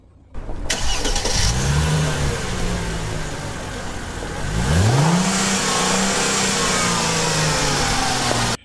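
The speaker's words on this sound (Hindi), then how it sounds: "ये देखिए गाड़ी स्टार्ट है" A car engine cranks and fires, idles briefly, then revs up and keeps running steadily, loud and close with no voices.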